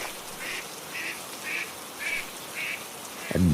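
Cartoon ducklings quack in the rain: six short, evenly spaced quacks, faint and repeated at a steady rhythm over a soft hiss of rainfall, with a brief louder sound at the very end.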